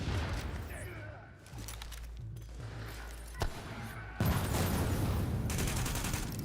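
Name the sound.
grenade explosion and gunfire in video game The Division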